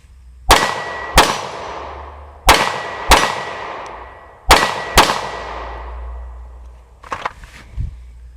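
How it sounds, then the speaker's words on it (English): Six sharp, loud gunshots are fired at a target in uneven pairs, each crack ringing out with a long decaying echo, followed by faint handling clatter and no talking. "All right, here we go, 6 shots."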